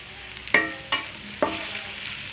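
Vegetables, including carrots, sizzle in a hot pan for chicken fried rice, a steady frying hiss broken by three sharp clanks of a spatula stirring against the metal, with no voices.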